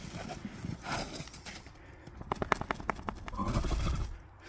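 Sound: horse rolling in the snow

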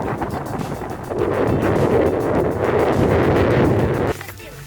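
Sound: strong wind on mountain summit

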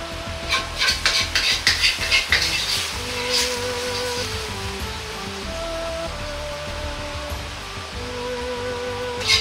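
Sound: pouring minced meat sauce over bean sprouts and egg

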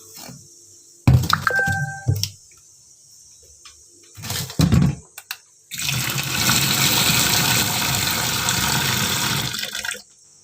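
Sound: washing green chillies in water

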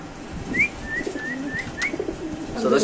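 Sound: Indonesian short face pigeons cooing

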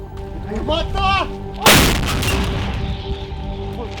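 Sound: artillery gun firing

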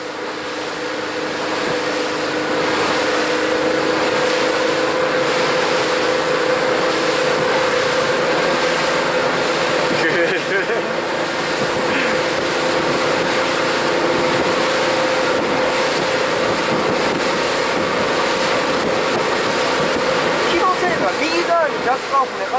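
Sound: boat engine revving up to 3500 rpm

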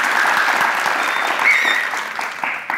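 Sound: studio audience applause on game show

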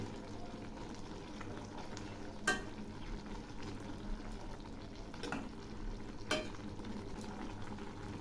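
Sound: stirring shrimp with cumin and ginger paste in a frying pan

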